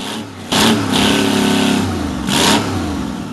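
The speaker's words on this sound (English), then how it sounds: "The Detroit Diesel Series 71 is a two-stroke diesel engine that comes both inline and V configuration by Detroit Diesel." A Detroit Diesel Series 71 two-stroke diesel engine runs close by, its loud, deep rumble rising in two strong revving surges over a steady low drone.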